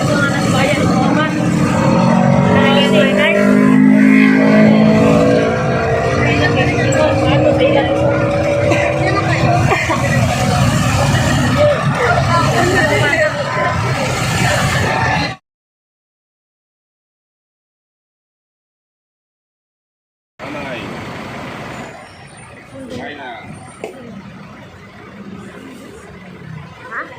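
Cars and trucks pass close by on a busy road, a loud steady rumble under chatter for about fifteen seconds, then silence before quieter street noise returns.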